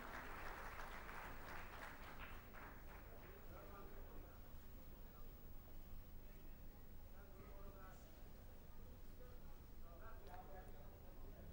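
Applause and cheering from an audience welcoming Rahul Gandhi, loudest at the start and then a steady clapping wash that continues throughout, with voices mixed in.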